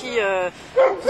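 Newfoundland dog barking in a few loud, close, harmonic barks with a short pause between them, no talk over it.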